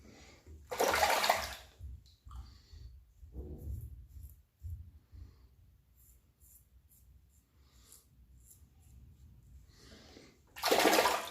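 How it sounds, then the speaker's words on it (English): Water splashing and running while rinsing during a wet shave with bowl-lathered soap, two loud bursts of rinsing near the start and end with quieter dripping and handling sounds between. "Rinse."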